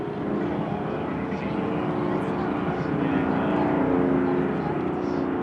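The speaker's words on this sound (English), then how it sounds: "It's noisy, it's big, and it's Canadian. It's the Caribou" The Pratt & Whitney piston engines of a Caribou transport aircraft produce a steady, broad roar at an airshow, holding even and gradually swelling slightly louder without a break.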